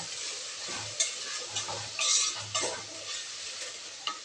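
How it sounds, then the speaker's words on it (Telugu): A little millet mixture with salt and turmeric is stirred in a pan: a soft sizzle sits underneath a few distinct scraping strokes of the spoon, each close and brief, with quiet gaps between them. "ఇప్పుడు కొంచెం సాల్ట్ అలాగే కొద్దిగా పసుపు వేసి ఇంకోసారి కలుపుకోండి"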